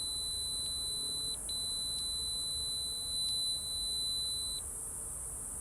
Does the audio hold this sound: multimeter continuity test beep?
yes